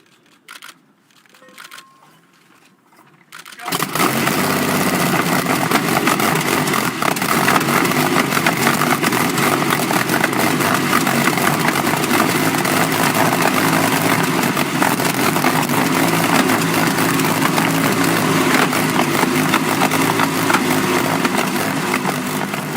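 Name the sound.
1933 Napier Railton record car, Napier Lion W12 engine starting and idling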